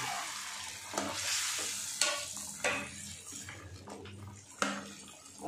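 Potatoes and eggs go into a spiced aloo anda curry frying in a pan over medium heat, giving a soft sizzle broken by several bursts of stirring and scraping, close and fairly quiet.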